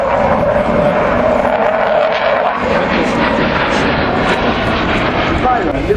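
A loud aircraft roars past at the Royal International Air Tattoo airshow at Fairford, a dense, sustained engine rumble that shifts in pitch as it goes by, with a public-address voice faintly under it.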